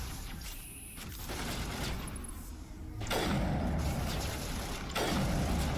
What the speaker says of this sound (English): Stop shooting Liara